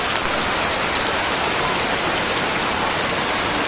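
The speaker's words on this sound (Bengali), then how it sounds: "দেখো কত বৃষ্টি হচ্ছে" Heavy rain pours down in a dense, unbroken hiss. It is loud and even throughout, with no pauses and no voices.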